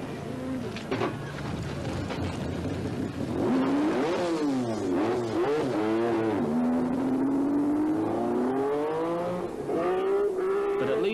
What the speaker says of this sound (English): The car fires up eventually